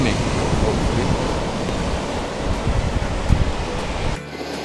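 Surf rolls steadily onto the wide white-sand shoreline of Radhanagar beach in India, a continuous loud wash of breaking waves with wind noise, cutting off abruptly near the end.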